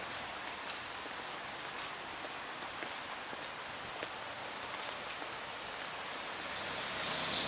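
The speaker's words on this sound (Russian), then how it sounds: "Идет дождь, а мы идем домой." Steady rain patters and hisses continuously on hard surfaces, a soft wash of drops with no voices, fairly distant and even throughout.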